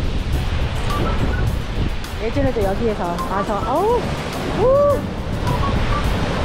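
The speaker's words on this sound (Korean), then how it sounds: "이 절벽 밑으로 파도 치는 게" Ocean waves crash at the base of a sea cliff in Hawaii, a loud, continuous rushing roar with wind buffeting the microphone, while a person speaks over it.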